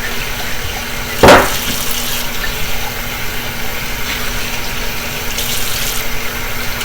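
Tap water runs steadily into a kitchen sink as raw chicken is washed, with a brief sharp splash near the start and an even, continuous hiss throughout.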